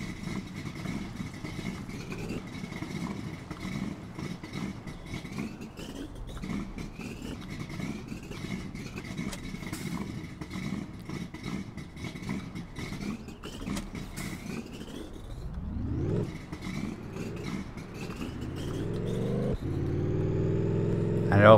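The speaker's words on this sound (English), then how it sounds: "I don't like this engine sound" Modded farm vehicle in Farming Simulator 19, its engine idling with a clattery mid-range drone, then revving up in a rising sweep near the end, growing louder as the pitch climbs.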